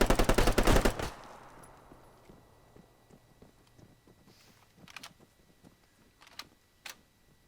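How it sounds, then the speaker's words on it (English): Gunfire in the military game ArmA 3 at a construction site: a loud, rapid burst of automatic shots for about a second, then a fading tail and a few scattered, fainter single shots and clatters. "Where are you shooting from?"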